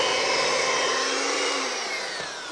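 An electric mixer whirs through brownie batter in a bowl, a loud, close, steady motor whine that eases slightly toward the end, with no voices.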